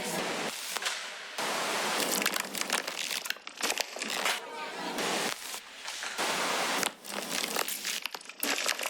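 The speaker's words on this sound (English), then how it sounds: "So then I took a bunch of just like ambient sound effects and kind of chopped it up to the rhythm of" Chopped ambient noise bursts, dense crinkly hiss cut into rhythmic blocks with abrupt stops and restarts, loud and close, with no voices.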